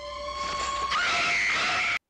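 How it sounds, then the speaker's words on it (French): A woman screams in a shower scene from the Psycho trailer, a loud, sustained shriek that rises sharply in pitch partway through and then cuts off abruptly, with no other voices. "à la fin de la bande-annonce de Psychose, il y a une dame qui crie dans la douche"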